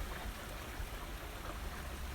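Rain falling outdoors, a steady soft hiss of drops with no clear pauses, faint and even throughout.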